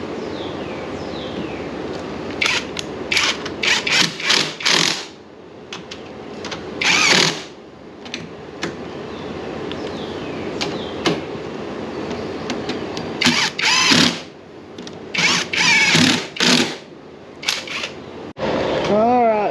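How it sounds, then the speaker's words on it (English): Plastic clicks, knocks and rattles come in short irregular bursts as an air box is worked back into a Honda Fourtrax 200 ATV, close by under a steady hum. "I'm gonna go ahead and put the air box back in here"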